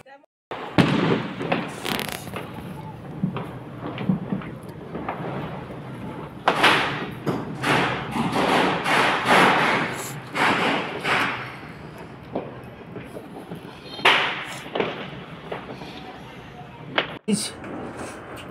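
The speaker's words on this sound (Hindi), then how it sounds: "पटाखे धूम धड़का हो रहा है पीछे" Firecrackers bursting during Diwali celebrations in Delhi, a string of loud irregular bangs and crackling pops at middle distance, with people talking nearby.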